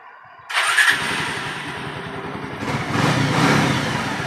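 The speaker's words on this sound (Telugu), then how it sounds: "బండి స్టార్ట్ అయింది కదా, ఇంజిన్ ఆన్ ఆఫ్ పని చేస్తుందా లేదా?" A Bajaj Pulsar motorcycle being rewired in a mechanic's shop cranks and catches after a half-second of quiet, then settles into a close, steady idle that swells slightly louder toward the end, with no talking.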